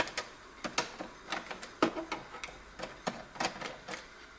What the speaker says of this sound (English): Some of the screws are just coming out with the screwdriver.